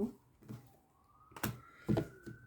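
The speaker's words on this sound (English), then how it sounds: "I can hear the paramedics, the ambulance." An ambulance siren sounds outside, a faint, distant rising wail beneath nearby soft thumps and knocks.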